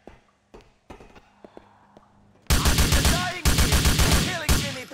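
Gunfire erupts in Grand Theft Auto IV, beginning with a few scattered sharp shots and then breaking into loud, dense bursts of rapid automatic fire that continue to the end, with some noisy clutter mixed in.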